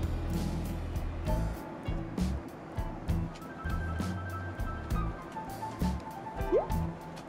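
Champagne pours and fizzes into a glass aboard a JAL business class flight, a soft liquid trickle with faint drips over the steady low hum of the aircraft cabin.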